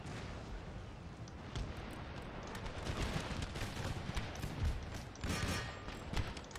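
Dense musket volleys crackle in a pitched Empire Total War Darthmod battle, a continuous rolling roar of massed shots at middle distance with no talk.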